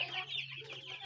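Forty-five-day-old chickens cluck and chirp close by in a short, busy burst, several birds overlapping over a low steady hum.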